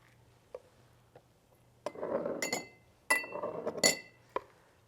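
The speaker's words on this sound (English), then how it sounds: "we're just going to scoop out some of this mixture and put it in the glasses" Beetroot risotto mixture being spooned into glasses: sharp glass clinks and scraping sounds come in two close clusters, separated by a few isolated taps, over a low steady hum.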